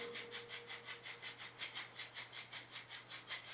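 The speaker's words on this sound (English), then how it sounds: "And that sort of full impact on the walls around the edge of the shaker is what gets you that shake sound." An egg shaker filled with sand is shaken in a steady rhythm, about four or five soft swishing strokes per second, each a bright hiss. It sounds close and fairly quiet, with no one talking.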